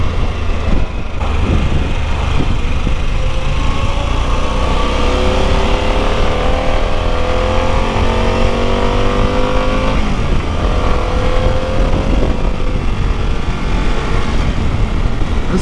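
A Harley-Davidson Pan America 1250 Special motorcycle with a V-twin engine accelerates on a road ride, its engine note rising steadily through the gears in a loud, continuous roar with wind noise.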